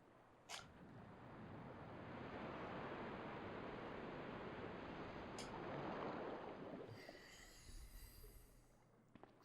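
Water rushing in and draining out of a basement chamber in the PS1 game Resident Evil 2: a steady, quiet, broad whooshing that swells and holds, then fades into a few clicks and a brief tonal flutter.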